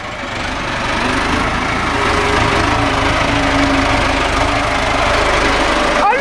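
A tractor engine idles steadily and loudly up close, a continuous low rumbling chug with no voices.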